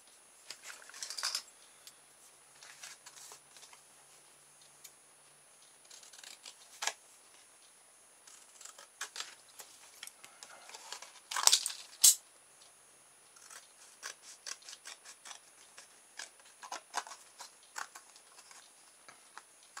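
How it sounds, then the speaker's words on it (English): Scissors cut a propeller shape out of a piece of card, giving quiet, irregular snips and crisp rustles close by, with a louder cluster of cuts and handling noise partway through. "So we'll cut a propeller out of this piece of card."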